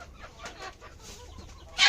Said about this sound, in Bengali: মুরগি খাবার খাইতেছে।